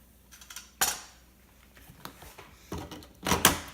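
A stainless steel bowl is handled during soap making, giving a few sharp metallic clinks and knocks scattered over a quiet background, near and fairly loud, with no talk.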